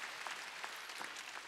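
Faint applause from a congregation at a Wednesday church service, a brief patter of clapping heard from a distance.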